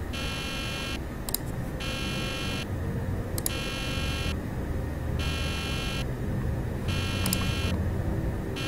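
An alarm clock buzzes in the video game Nancy Drew: The Deadly Device, a harsh electronic tone pulsing on and off in roughly one-second bursts over a steady rumbling background, loud and without any speech.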